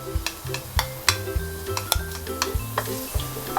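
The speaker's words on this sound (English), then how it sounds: "sauteing the garlic" Garlic sauteing in oil in a pan, a bright sizzle punctuated by rhythmic metallic scrapes and taps of a utensil stirring against the pan, close and busy throughout.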